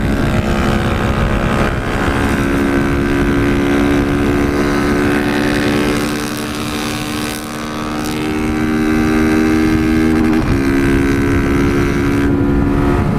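Street motorcycle engine revving and pulling along the road, a loud steady drone that dips briefly in the middle and then rises again, heard close up.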